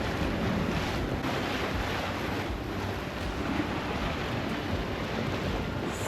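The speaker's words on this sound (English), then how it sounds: "We are motor sailing. We have all the sails out." A sailboat motor-sails off Turks and Caicos with all sails set, heard as steady wind rush and water wash over a low hum, loud and continuous with no talking.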